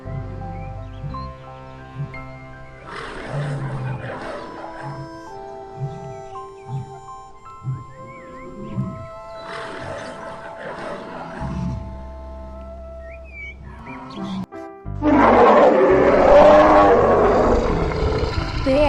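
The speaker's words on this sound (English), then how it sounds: "Lion." A lion roars loudly several times in a long sequence of deep, rumbling calls, rising to its most intense and sustained roar near the end.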